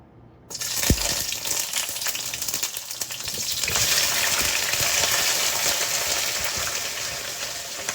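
Vegetables hit an already hot pan with a sharp clatter, then a loud, steady sizzle with crackling pops continues close up.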